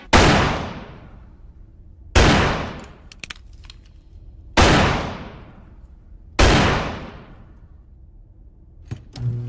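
Four loud, close gunshots spaced about two seconds apart, each a sharp crack with a long decaying echo, with faint clatter between them.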